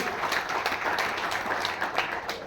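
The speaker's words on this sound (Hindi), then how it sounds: "तो एक बार ताली बजाएंगे आदित्य चौधरी के नाम की" An audience claps for Aditya Chaudhary at a gathering, a dense, continuous patter of many hands at moderate distance that holds steady for a couple of seconds with no one speaking over it.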